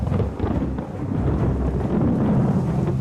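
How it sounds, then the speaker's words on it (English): Thunderstorm at sea, a loud sustained roar of wind and rumbling thunder with rain, steady and close throughout. "We're caught in a huge storm"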